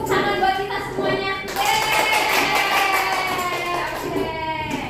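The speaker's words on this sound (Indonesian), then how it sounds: "Tepuk tangan buat kita semuanya." Children in a primary school classroom clap together in a steady patter of many small hands, moderately loud, with a young voice heard faintly at the start and end.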